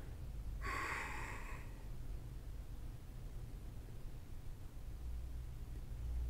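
A single deep exhale during a yoga twist, a breathy rush lasting about a second, close and moderately loud over steady room hiss.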